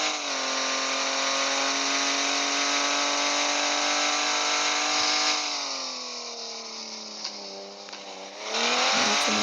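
Car engine held at high revs under the gas pedal, a loud, sustained droning whine that dips briefly near the end, then surges back up.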